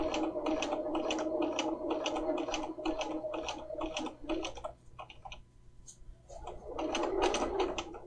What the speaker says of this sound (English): when you're stitching a zipper from the front of the garment, you want to make sure that your stitching is straight